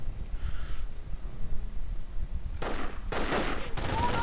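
MG42 machine gun fire in a World War II real-time strategy game: after a long low rumble of battlefield ambience, several loud sustained bursts of rapid automatic fire arrive near the end, separated by brief pauses.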